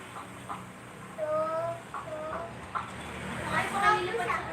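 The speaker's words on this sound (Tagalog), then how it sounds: "Ang cute na manok." Chicken clucking near a house, with a few short clucks and rising calls scattered over low background noise and faint voices.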